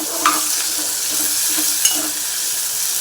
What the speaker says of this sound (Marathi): हिंग कांदा आणि हिरवी मिरची हे परतून घेऊया